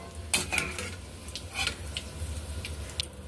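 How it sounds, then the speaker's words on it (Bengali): Fried onions lifted with a utensil out of hot frying oil onto paper on a plate, with faint sizzling under scattered light scraping and clinking taps. "সেই পেপারের মধ্যে আমি বেরেস্তাটা তুলে দিচ্ছি"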